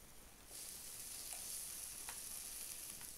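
Bacon sizzles steadily in a hot cast iron pan, a bright crackling hiss starting suddenly with a few sharp pops.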